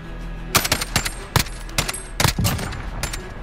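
Gunfire in the Call of Duty Modern Warfare video game: several sharp, loud bursts of shots fired through a wall, spaced irregularly over a steady background, with one quick double burst.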